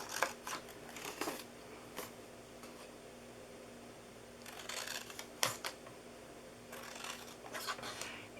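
Scissors snip through a card gift box in a few short bursts of crisp cutting, spread across a quiet background with pauses between the cuts.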